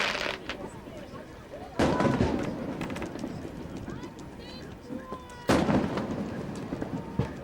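Fourth of July fireworks go off over the water near a boat, with two sharp, loud bursts and fainter crackles amid ambient noise and a low conversation.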